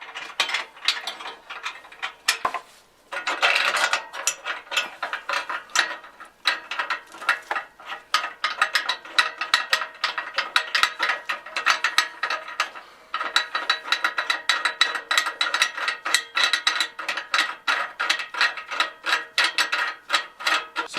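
A ratchet wrench clicks repeatedly in quick bursts while tightening grade 10.9 exhaust bolts on a 1993 Mustang Fox Body GT with a Coyote engine swap, close up and steady with brief pauses.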